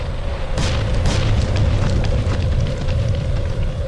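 Explosion as an enemy structure is destroyed in the real-time strategy game Ground Control, a booming blast with crackling bursts over a steady rumbling low hum of battle.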